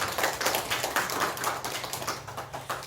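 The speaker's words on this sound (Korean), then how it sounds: "오늘부터 우리 베이스 기타로 윤현성 형제가 함께하게 되는데 우리 격려의 박수 함께하도록 하겠습니다." Steady, moderately close clapping from a church congregation during a Sunday service, an even wash of hand claps with no voices.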